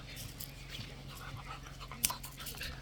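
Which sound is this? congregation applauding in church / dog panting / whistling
dog panting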